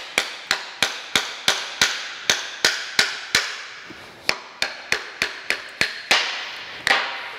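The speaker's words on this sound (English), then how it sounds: "grab a hammer here and we'll just knock that one off." A hammer strikes metal repeatedly in a steady rhythm, sharp ringing knocks close by, about twenty blows with brief pauses between, knocking excess off freshly poured babbitt bearings for a three-roller cane mill.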